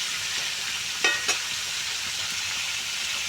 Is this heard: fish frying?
yes